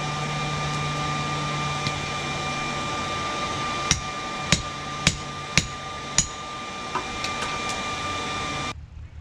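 A cold chisel struck with a hammer on thick steel rebar at a small forge: five or six sharp, ringing metallic impacts in a fairly even rhythm, set against a steady background hum.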